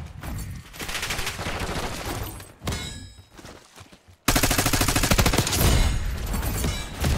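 Heavy automatic gunfire in Black Ops 6 rattles in sustained loud bursts, then drops to a thinner stretch of scattered shots before a sudden, even louder barrage resumes.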